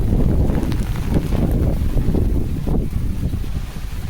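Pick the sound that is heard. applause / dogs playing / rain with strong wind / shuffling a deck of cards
rain with strong wind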